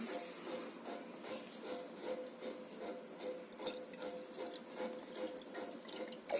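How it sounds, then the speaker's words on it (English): Liquid pours into a graduated baby feeding bottle, a faint, close trickle with small splashes and drips that continues unevenly throughout. "if I am pouring the liquid"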